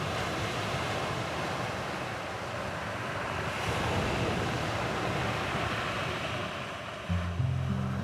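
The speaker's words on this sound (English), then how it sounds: "The sea is the natural border of an ancient place that lies in the eastern Mediterranean Sea, beautiful, wild, rich in history and traditions." Sea surf rolling onto the wild Sardinian coast of the Mediterranean, a steady full wash of breaking waves mixed with wind buffeting the microphone, continuous and fairly close.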